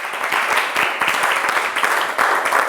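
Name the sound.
audience applause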